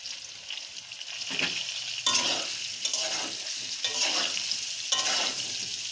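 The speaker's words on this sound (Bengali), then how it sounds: "এই যে দেখো আলুটা সুন্দর করে আমি লাল লাল করে ভেজে নেব" Boiled potatoes fry with turmeric in a hot pan, a steady close sizzle broken by several scraping stirs of a spatula at irregular intervals, no voices.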